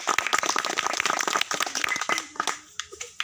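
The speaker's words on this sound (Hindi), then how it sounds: "श्री बाबूलाल यादव जी, मैं चाहूँगा जोर से तालियों से इनका स्वागत किया जाए।" A crowd at a village farmers' gathering in Kakori claps to welcome an event organiser, a quick burst of close, scattered hand claps that thins out and fades within a few seconds.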